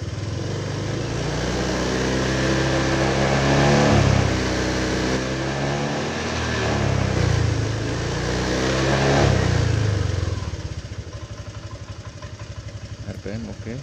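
A Honda Vario 125 scooter engine is revved several times during an RPM test after being repaired. The engine rises and falls in loud swells, then settles to a steady idle, and voices talk over it.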